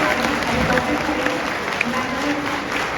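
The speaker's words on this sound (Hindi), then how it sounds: "तो जोरदार तालियों से" An auditorium audience applauds an award winner, Shifali Bhatt, at a postman workshop, a steady, moderately loud wash of clapping lasting the whole three seconds.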